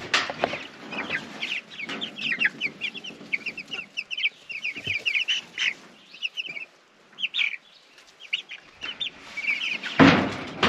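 Homestead chickens cluck and call almost without pause, a busy flock heard up close with short chirps and a louder squawk near the end.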